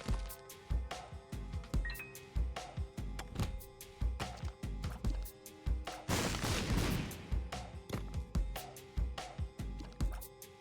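Rapid, evenly spaced shot sounds from The Binding of Isaac: Repentance video game repeat steadily over a layer of game music, with a denser noisy burst near the middle.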